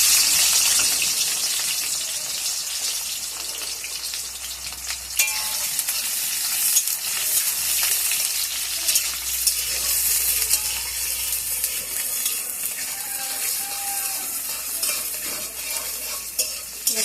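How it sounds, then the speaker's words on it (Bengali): Chopped onion hits hot oil in a pan, giving a loud, steady sizzle that fills the whole stretch, with occasional stirring scrapes and no talking. "এবার দিয়ে দেবো পেঁয়াজ কুচি"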